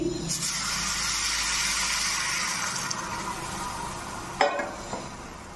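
Broth goes into a pan of frying fish and potatoes for Bengali macher jhol, bringing a loud, broad sizzle that gradually settles, then a sharp metal clank of a utensil on the pan and a smaller knock soon after.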